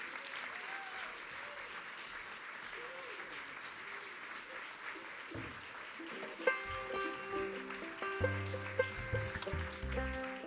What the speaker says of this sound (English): if you would you please give a round of applause for Chris, Ben, John, and Jake